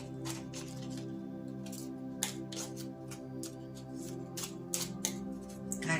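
Oracle cards of an angel deck being shuffled by hand, a run of soft irregular papery flicks and slaps close up over a faint steady background hum.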